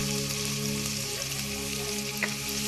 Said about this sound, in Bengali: এরপরে আমরা চপিং করা পেঁয়াজটা দিয়ে দিচ্ছি।